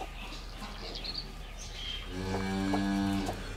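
A mother cow calls out with one loud, drawn-out moo near the end, after a stretch of quiet farmyard ambience with faint bird chirps.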